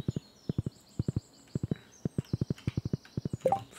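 Horse hooves clip-clopping in the farming game Stardew Valley, a steady run of crisp paired and triple beats close up, with faint game chimes in the background and a brief louder effect near the end.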